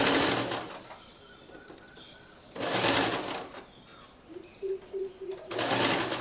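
A sewing machine stitches a set-in sleeve into an armhole in three loud bursts of rapid whirring, separated by quieter pauses with faint background chirps.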